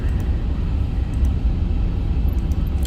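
An Airbus A350-1000 taxiing in a flight simulator game, a steady loud engine rumble and whine that holds evenly throughout with no talking.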